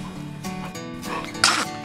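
A baby sneezes once, a short sharp burst near the end, heard close amid soft ambient indoor sound at bath time.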